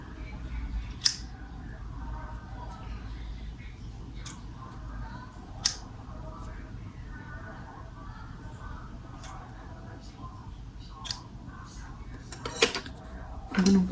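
Scissors snip through hair in a series of sharp, irregularly spaced clicks close by, a dozen or so cuts, with a quiet voice and soft room noise in the background.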